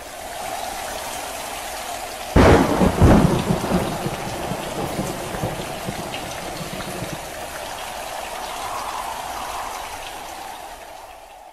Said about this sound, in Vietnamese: Hạt mưa xiên chéo lung tung, hỗn độn trong gió, mưa như tháo cống, mưa như dội nước